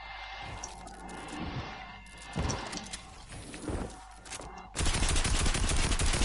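Video game gunfire in Fortnite: irregular bursts of shots that grow denser, ending in a loud, continuous volley over the last second and a half.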